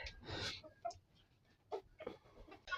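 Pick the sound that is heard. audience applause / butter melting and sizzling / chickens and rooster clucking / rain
chickens and rooster clucking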